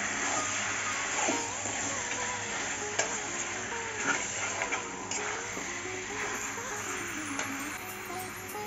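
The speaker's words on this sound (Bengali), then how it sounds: "এখন আমি ভালো করে এই মশলার সঙ্গে মাংসটাকে কষাবো।" Mutton sautéed with spice masala in a pan, giving a soft, steady sizzle with occasional stirring scrapes and light taps of the spoon, close by and fairly quiet.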